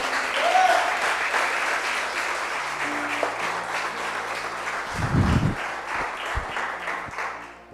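A church congregation applauds, steady clapping running throughout with some voices mixed in and a few low thumps partway through.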